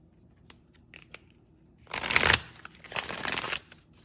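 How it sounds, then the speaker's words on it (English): Oracle cards are bridge shuffled twice: a few light taps, then a dense riffling burst, a pause, and a second longer riffle, close up. "One good thing though, I can bridge shuffle pretty well."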